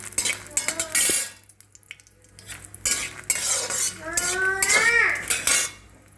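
Dry red chilies roast in a spoonful of oil in a pan, a soft sizzle under repeated metal scraping and stirring clinks of a spoon against the pan, with brief voices in the background.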